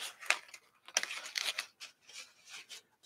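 Paper being snipped with scissors for an art journal page, a series of short crisp cuts and rustles close by, irregular in rhythm, with no talking.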